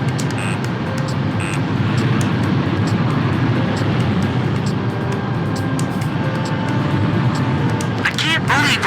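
Fighter jet in the video game Ace Combat 5 roars steadily throughout, a dense continuous engine drone with brief radio chatter and tones mixed under it.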